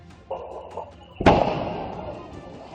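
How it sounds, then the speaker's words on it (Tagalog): The Kanlaon volcano's moderately explosive eruption in Negros Occidental, caught on CCTV outside a store, heard as a sudden loud boom that leaves a long rumbling roar, after faint background noise. "Iyon na pala ang moderately explosive eruption ng Bulkan Kanlaon."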